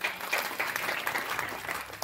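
Sustained audience applause for singers at a devotional kirtan gathering, a dense steady patter of many hands clapping, moderately loud and continuous throughout with no voices over it.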